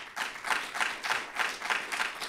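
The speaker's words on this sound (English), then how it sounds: "You can clap." An audience claps in steady, even bursts, a moderate crowd applauding close by for a couple of seconds with no voices.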